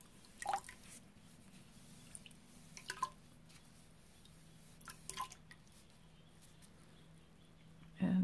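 Water squeezed by hand out of rinsed, dyed cotton sliver over a rinse bucket: a few quiet wet squishes and drips spaced apart against a faint, hushed background.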